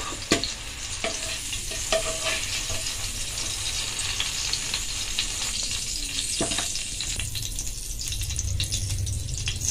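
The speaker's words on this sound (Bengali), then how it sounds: "বাদবাকিগুলোও ভেজে নেব।" Cabbage pieces frying in oil in a pan, with a steady close sizzle and crackle running throughout and occasional clinks and scrapes of stirring.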